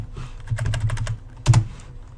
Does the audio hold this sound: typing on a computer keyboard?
yes